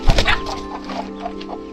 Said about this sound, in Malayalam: ഞാൻ ഈ കോഴിയെ വിടുവാണേ